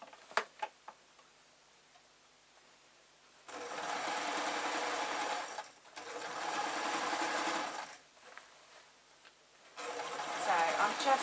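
A sewing machine stitches the shoulder seam of an old-fashioned artist's painting smock in three separate whirring runs of steady rapid ticking, near and fairly quiet, with soft handling clicks in the pauses between them.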